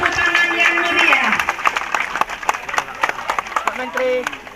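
An audience in Padang Pariaman, Indonesia, gives lively applause for a visiting government minister, heard as steady, fairly loud clapping with crowd murmur and someone speaking over it.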